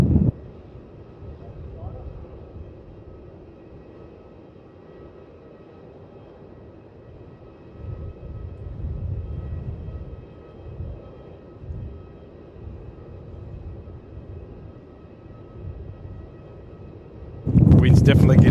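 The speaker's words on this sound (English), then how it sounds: "So here comes that other 787 now," A Boeing 787 airliner passes at Melbourne Airport, a low broad engine roar that swells and fades across the runway under wind noise, with people talking nearby.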